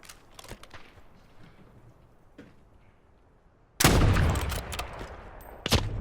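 Gunfire during a gulag fight in the Warzone video game: quiet scattered shots and movement, then a sudden loud, sustained burst of fire near the end.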